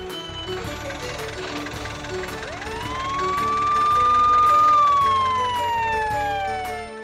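An ambulance siren wails, rising into a long sweeping tone that swells louder toward the middle and then slowly falls away, over a busy background of other tones and clatter.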